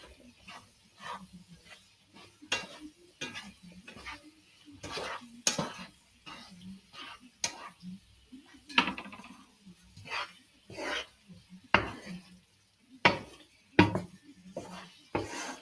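Homemade pasta is gently mixed with Mediterranean sauce in a pan, producing soft, irregular clinks and scrapes of a utensil against the pan, quiet and close, with pauses between strokes.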